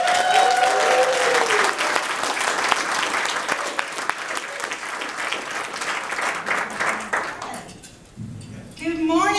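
Warm audience applause welcomes a speaker at a motivational talk, loud dense clapping with a few whoops that gradually thins out and fades near the end as a voice begins speaking.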